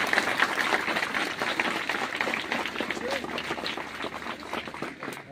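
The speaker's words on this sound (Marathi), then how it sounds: "मला वाटतं की टाळ्या वाजून महेंद्रचं आपण अभिनंदन केलं पाहिजे." Audience clapping at a school ceremony inaugurating a new compound wall, renovated entrance gate and foundation plaque: dense, steady applause from a crowd that fills the whole stretch without letting up.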